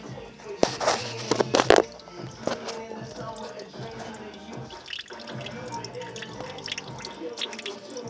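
Water drips and splashes from the cooling system of a BMW 120i, a few louder spattering bursts early on and then scattered lighter drips over a low background hiss.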